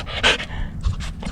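A dog pants close up in quick, breathy bursts, several rapid exhalations in short irregular clusters.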